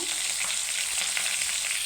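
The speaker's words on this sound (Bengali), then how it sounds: "মাছ ভাজাটা হয়ে গেছে এখন নামিয়ে নেব" Fish frying in oil in a wok, a steady, close, dense sizzle that crackles evenly throughout with no voices.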